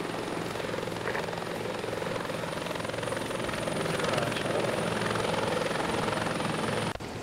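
A helicopter's engine and rotor roar continuously at close range, a loud steady thrumming that stays level throughout with no voices heard.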